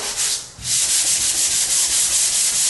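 Close, loud sanding of a sheetrock patch, a continuous abrasive rubbing with a brief dip near the start and then even back-and-forth strokes.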